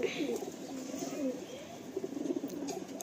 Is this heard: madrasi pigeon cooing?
yes